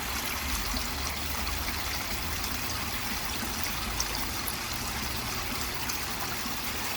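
Water trickles and splashes continuously in a small garden pond waterfall, a steady close-up babble with no voices.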